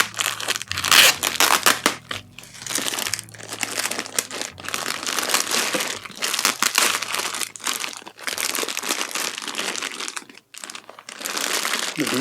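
Packaging pulled off a pair of custom Air Jordan 1 Chicago sneakers: loud, close crinkling and crumpling of paper and plastic, continuous with brief pauses, no voices.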